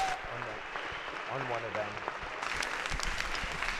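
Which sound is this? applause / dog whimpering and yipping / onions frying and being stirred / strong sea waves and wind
applause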